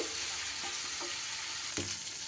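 Ginger fries in hot oil in a pan while being stirred, a close steady sizzle broken by a few scraping knocks of the spoon, with no voices.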